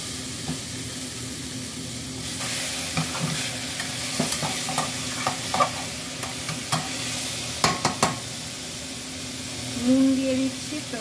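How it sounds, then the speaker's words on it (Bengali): Chicken pieces frying with roughly crushed ginger and garlic in a hot pan, a constant sizzle broken by repeated scraping stirs and a few sharp clinks, close and loud. "আদা রসুনটাকে একদম ভালো করে বাটিনি, জাস্ট কিছুটা এরকম ভাবে রেখেছি, তো সেটা আমি দিয়ে দিচ্ছি এর মধ্যে। এবার এর মধ্যে চিকেনগুলো এক এক করে দিয়ে দেবো।"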